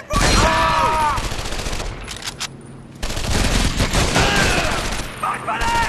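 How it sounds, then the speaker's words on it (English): An MG-42 machine gun in Medal of Honor: Vanguard fires loud, sustained rapid bursts that fill the scene, broken by a brief lull. Wailing effects and shouting voices mix over the gunfire. "It's an MG-42!"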